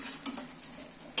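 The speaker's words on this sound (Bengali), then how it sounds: "এইটা নাড়াচাড়া করে নিচ্ছি" Onion and tomato gravy for chicken biryani is stirred in a pan, a soft frying hiss with light scraping strokes and a sharper clink at the close, fairly quiet.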